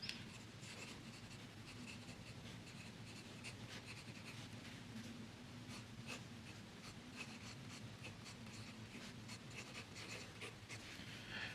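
Continuous scratchy fountain pen nib strokes on paper, close and steady, with small rhythmic scrapes running throughout and no talking.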